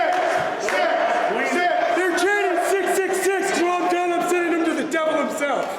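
A wrestling crowd at an independent tournament shouts and cheers as a wrestler pumps them up: many voices yelling and whooping together, loud and continuous throughout.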